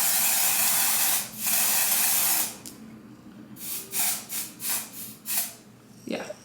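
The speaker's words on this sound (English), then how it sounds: "So I'm just going in with the color medium brown and I'm just gonna spray the lace." Medium brown lace tint is sprayed onto a wig's lace in long hissing bursts, then a run of shorter quick sprays, close and fairly quiet.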